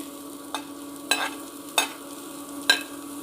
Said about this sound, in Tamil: இப்போ நல்லா ஃப்ரை பண்ணுவோம்